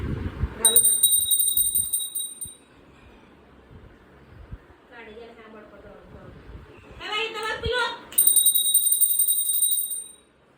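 A bright, ringing bell sounds in two bursts, with quieter voices talking in between and under the ringing.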